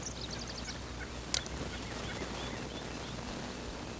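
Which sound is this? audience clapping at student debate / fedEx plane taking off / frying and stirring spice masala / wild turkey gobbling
wild turkey gobbling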